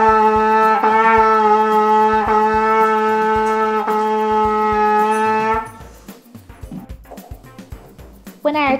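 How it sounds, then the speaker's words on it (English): A trumpet played with its main tuning slide removed holds a long steady tone broken into separate tongued notes, several distinct articulations in a row, loud and close, then stops, leaving a few soft clicks and handling noises. "I'm playing my trumpet without the main tuning slide in it."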